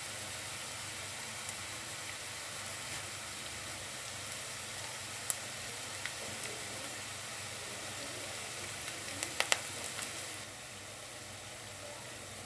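Curry leaves frying in hot oil for a Telugu-style mutton brain curry, giving a steady, moderate sizzling hiss throughout with a few brief crackles near the end.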